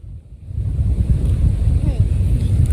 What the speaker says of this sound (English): Okay, it's properly windy here. The amount of sand in the air is even being picked up by the microphone